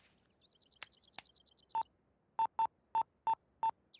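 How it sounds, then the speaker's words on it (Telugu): Phone keypad tones beep in a quick series of six clear, evenly spaced dialing notes, close and isolated, preceded by a few faint clicks and chirps. "ఒకసారి ఫోన్ ఇవ్వా, సునీతతో మాట్లాడాలి"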